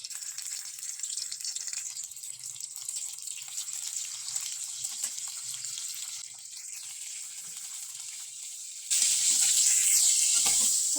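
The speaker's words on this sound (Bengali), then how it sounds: "কড়াইতে তেল এবং শুটকি ভেজে নেব" Dried bamboo-leaf fish fries in hot oil in a wok, giving a continuous bright hiss that grows noticeably louder and fuller near the end, with no talking.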